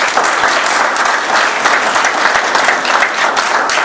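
Dense, steady applause from a debate audience at a Tea Party congressional district event, filling the whole moment at close range with no talking over it.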